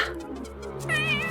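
A cat meows clearly and close by, with a drawn-out, wavering cry that rises toward the end, heard on its own without talk.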